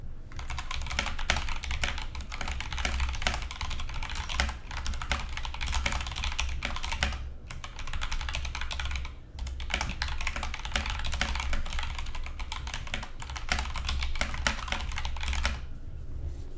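Continuous fast typing on an Epomaker GK96S mechanical keyboard, a dense run of close, crisp key clacks with a few brief pauses and no talking.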